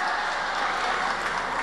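A show audience in Shymkent claps steadily, a dense, even wash of applause filling the short moment without pause.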